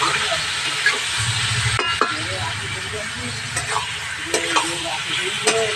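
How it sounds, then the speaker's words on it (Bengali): Chicken pieces are stir-fried in a pan for a spiced Bengali kosha curry, a continuous close sizzle broken by scattered clacks and scrapes of a spatula against the metal. "মাংসটা এবার ভালো করে কষিয়ে নেব।"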